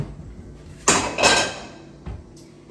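A big pot is pulled out in a home kitchen for mixing a meal, with two loud metallic clanks and scrapes close up, followed by a couple of softer knocks, and no talk.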